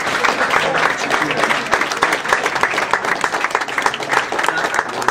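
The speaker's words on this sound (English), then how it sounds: "Let's give yourselves a round of applause" An audience of residents at a community meeting bursts into steady, dense applause that holds at full strength throughout, with a few voices mixed in.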